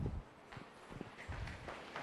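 An audience at a Rotary training camp in Punjai Puliyampatti taps their feet on the floor, producing soft, irregular thumps and shuffles with a low rumble, fairly faint and uneven across the crowd.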